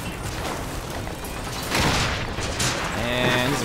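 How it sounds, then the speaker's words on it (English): Rocket explosions in Bioshock Infinite, booming blasts that swell partway through over a busy backdrop of combat noise and voices. "look out, rockets!"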